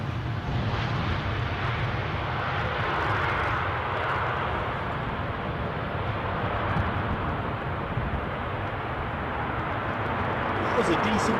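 A jet airliner roars steadily as it lands and rolls out at an airport during plane spotting, loud and sustained throughout with a broad rushing engine noise.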